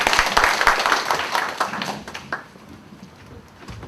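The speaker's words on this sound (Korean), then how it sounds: "매번 위원장님께 다시 한번 박수 부탁드리겠습니다" Crowd applause for the union chairman at an extraordinary general assembly of a Korean national labor federation: dense clapping, loud at first, that thins and fades toward the end.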